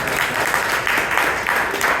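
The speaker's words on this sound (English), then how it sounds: "I think he deserves a bigger round of applause." Dense, steady applause from a room full of people, continuous and fairly loud throughout.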